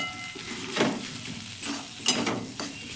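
Potatoes for a luchi filling stir-fry in a pan with a soft, continuous sizzle, punctuated by several scraping and tapping strokes of a spatula.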